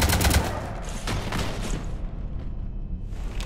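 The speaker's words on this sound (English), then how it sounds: "You want to stop shooting up my ship?" Gunfire in the video game Mass Effect 3: a loud, dense burst of rapid shots opens, then a quieter stretch of scattered shots and rumbling.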